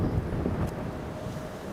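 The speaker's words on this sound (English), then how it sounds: "That wind's still strong" Strong storm wind at an airport during a storm: a low, rumbling roar buffeting the microphone steadily throughout, heavy and close, with no voices.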